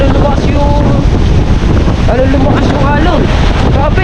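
Strong wind roars across the open sea with rough waves, buffeting the microphone hard and loud without a break, while voices call out over the gusts.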